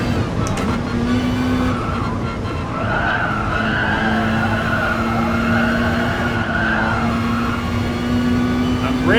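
A race car in Gran Turismo Sport brakes hard into a corner, tyres squealing in long sustained skids over the engine drone, loud and continuous with no speech.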